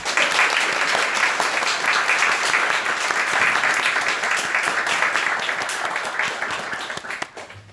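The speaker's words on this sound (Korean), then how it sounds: "목사님 나오실 때 격려 박수 한번." Church congregation applauding to welcome a pastor to the pulpit at a chapel service, a steady, full round of clapping that fades toward the end.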